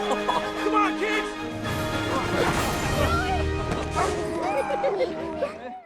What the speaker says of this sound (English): we hear the barking of a dog